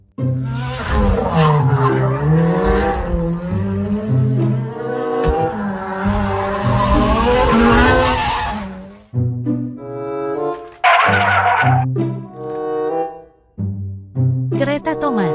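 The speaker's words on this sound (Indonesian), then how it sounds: "Mobil balap." A toy race car plays loud, sustained electronic skidding and tire-squeal effects up close, then breaks into shorter revving bursts with brief pauses.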